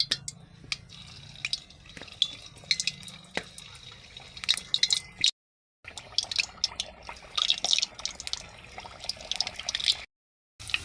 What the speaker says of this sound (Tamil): நாங்கள் இப்போ எண்ணெயை விடுவோம்